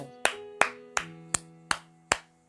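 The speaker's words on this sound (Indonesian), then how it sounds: "tepuk tangan buat kamu yang benar" Six sharp hand claps in an even, unhurried rhythm, close and clean with a short ringing decay after each, celebrating a correct answer in a biology lesson on enzymes.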